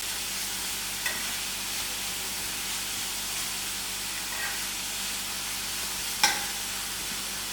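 Crushed chilli pickle stirred fast in a hot pan, making a steady, close sizzling hiss with a few faint scrapes and one sharper clink as the spoon meets the pan.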